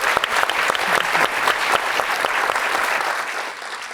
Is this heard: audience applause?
yes